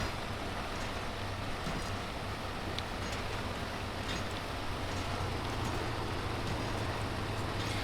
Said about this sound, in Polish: Bardzo mi się podoba dźwięk silnika w tej ciężarówce.